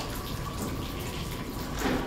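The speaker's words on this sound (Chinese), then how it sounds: "这个 shower 很像瀑布" A heavy shower pours like a waterfall during a music video shoot, giving a steady close rush of falling water that swells slightly near the end. No one speaks.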